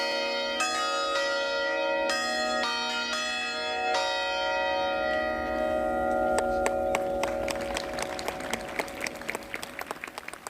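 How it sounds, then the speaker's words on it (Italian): Church bells rung by the Cavazzale bell-ringing group sound in a ringing concert, clear repeated strikes with long overlapping resonance, then a faster cluster of peals layered with applause from a gathered crowd. "il concerto del gruppo campanario di Cavazzale con cui le campane sembrano aver ricambiato la calorosa accoglienza"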